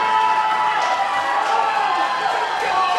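Wrestling crowd at a live show cheering and clapping, a loud continuous roar of voices with clapping mixed in and no break in the noise.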